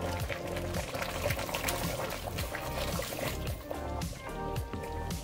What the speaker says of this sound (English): You need to add a little bit of water.